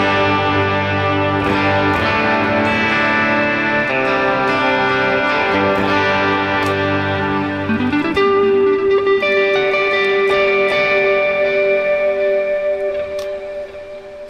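Sustained electric guitar notes and chords through a Valeton GP200 with delay and reverb ringing out with echoing repeats and a washy reverb tail, played alone and fairly loud.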